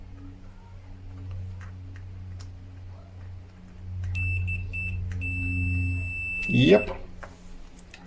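A multimeter testing continuity on the thin wires of a broken speaker gives a bright, steady electronic beep in two close bursts, the second longer. A low hum runs underneath, and a voice speaks briefly near the end.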